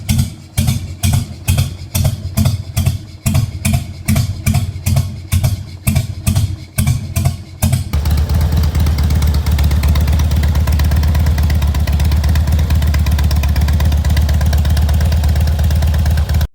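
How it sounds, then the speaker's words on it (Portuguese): A Honda Shadow 600 V2 motorcycle engine runs with a loud, uneven, loping beat at idle, then revs into a dense continuous roar, close and alone. "Essa ordem de ignição resulta no som famoso dos motores Harley Davidson."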